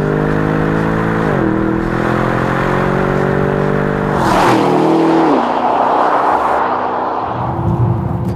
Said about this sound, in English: with this 4-litre turbocharged V8, you might worry that gas particulate filters might get in the way